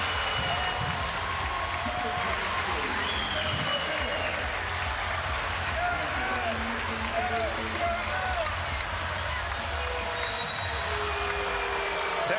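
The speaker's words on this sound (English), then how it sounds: "Fans wanted a net. They're not going to get it, but they will cheer because they got the point." Sustained crowd noise of cheering and applause fills a Baylor vs Texas match after a point, steady and dense throughout with a busy arena wash and faint voices mixed in.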